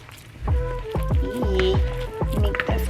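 Hands squish tortilla dough mixed with flour and water, making wet squelching squishes in a quick repeated rhythm, about five close, loud presses with no talking.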